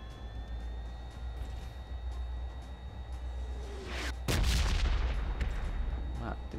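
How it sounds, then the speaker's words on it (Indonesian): A grenade explodes in PUBG Mobile, a sudden loud burst with a rumbling tail after a stretch of quieter ambience and faint tones. "Kira-kira bunyi orang granat."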